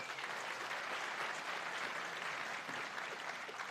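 A talk audience gives a quick show of applause, an even wash of clapping that is fairly faint and distant and continues without a break.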